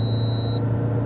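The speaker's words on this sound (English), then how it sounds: "Ice warning" Ice warning chime in a Fiat Multipla car, a single steady high electronic tone lasting about half a second over the low, constant rumble of the engine and road noise inside the cabin.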